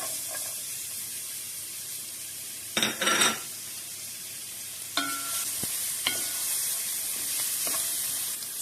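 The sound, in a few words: onions sautéing in olive oil in a pan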